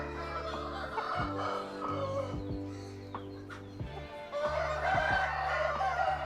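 A rooster bred from a Rampur cock and Peruvian hens crows loudly and close by, several long strained calls repeating one after another, with a voice faintly in the background.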